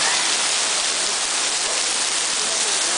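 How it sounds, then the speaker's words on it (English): Heavy rain pours down in a loud, dense, continuous roar with no breaks. "Oh my god, look at that rain."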